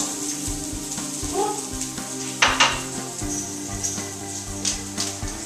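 Pizza sauce stirred with a wooden spoon in a pot, giving a close, steady scraping and bubbling sizzle with a few sharper clatters of the spoon against the pot partway through.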